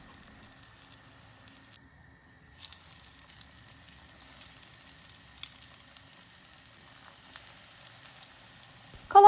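Soft, steady sizzling and faint popping of eggplant frying in oil, quiet and close, with a louder clatter at the very end.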